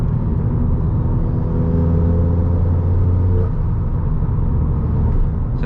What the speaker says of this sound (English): The turbo is honestly insane.